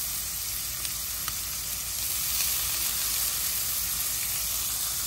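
Onion and green chilli pieces sizzle steadily in hot oil alongside potato for a fry, a continuous close hiss with a few faint crackles and no talk.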